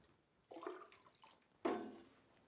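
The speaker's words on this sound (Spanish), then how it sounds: "Una vez colocada la ceniza, vamos a proceder a echar el agua hirviendo." Boiling water is poured onto wood ash in a traditional washtub, heard as two splashing gushes of liquid, the second louder and sharper, with no talking.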